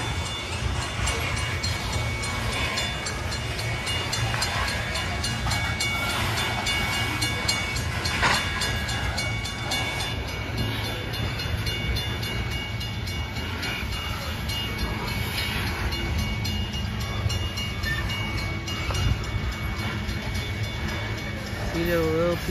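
A loaded BNSF coal train rolls steadily past, with its rear DPU locomotive going by. The low rumble of the cars runs without a break under faint clacking, and a voice talks over it.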